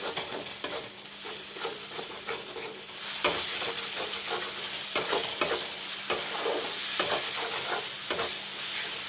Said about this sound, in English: Put some jeera powder. And brown the masalas nicely.